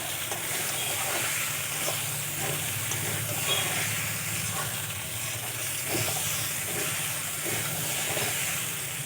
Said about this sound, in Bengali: আরও কিছুক্ষণ ভাজা ভাজা করে নেব।